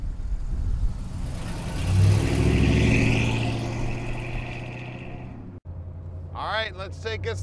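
A 1947 Lincoln coupe street rod with a 460 engine rumbles and revs, swelling then easing off to a lower idle drone before a brief cut. A voice comes in over the engine near the end.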